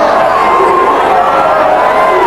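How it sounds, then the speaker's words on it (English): Spectators at a 1993 rugby league match between Keighley Cougars and Batley swell into a loud, continuous roar of massed voices and chatter, with a commentator talking over the din. "The crowd are sensing the occasion then. They're"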